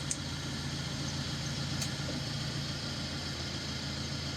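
A Peugeot Partner or Citroen Berlingo van engine idles with a steady low hum, and a faint shift in the engine note suggests the AC compressor engaging.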